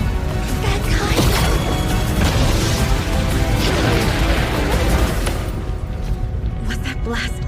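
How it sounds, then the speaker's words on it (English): A magical attack in an English-dubbed fantasy anime sets off a loud explosion blast, a dense roaring rumble that runs for several seconds and then thins out, with voices mixed in. "Was that blast above us?"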